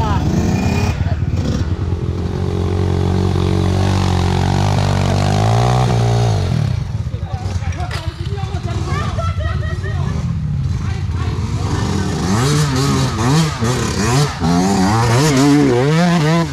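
Motorcycle engine revving loudly on a palm plantation trail, droning continuously with rising and falling pitch as the rider pushes the throttle, while people talk over it.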